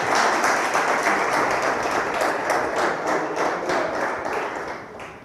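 Lively audience applause at a lecture hall talk on ethics, dense close clapping holding steady for several seconds before tapering slightly, no voices over it.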